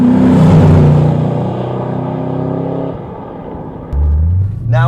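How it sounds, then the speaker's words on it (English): Borla S-Type performance exhaust on a 2010-2015 Chevrolet Camaro SS, heard from inside while driving: a loud, throaty low rumble swells under acceleration, eases off, then returns with a deeper drone near the end. "When you get on it, you can really hear it. Real throaty sound to it."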